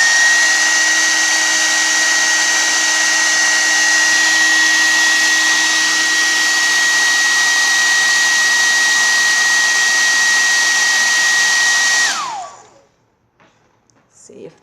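A hair dryer blasts heat onto the corner of a crochet piece, a loud steady whine with a fixed tone that runs for about twelve seconds before switching off and winding down.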